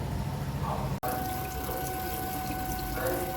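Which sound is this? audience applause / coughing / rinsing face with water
rinsing face with water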